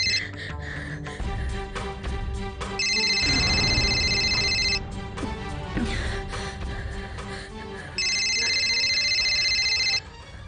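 A telephone rings inside a house in two electronic warbling bursts layered over loud dramatic background music, the ring standing out clearly but sharing the space with the score, with no voices heard.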